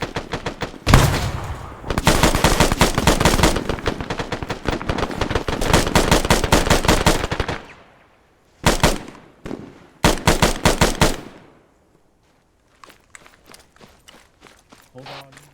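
Loud, near bursts of automatic gunfire and grenade-launcher blasts in an Arma 3 military simulation battle, dense sustained volleys followed by a few shorter separate bursts and scattered fainter shots trailing off at the end.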